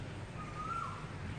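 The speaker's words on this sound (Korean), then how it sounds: "이게 지금 새소리가 들리는 거고" One faint, drawn-out bird call near a hotel swimming pool in Pattaya, Thailand, rising briefly over a low, steady background hum, with no talking.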